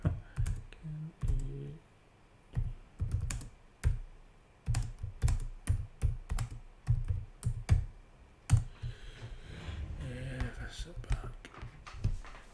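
Keys clatter in irregular bursts of typing on a computer keyboard, close by, with a voice speaking briefly in between.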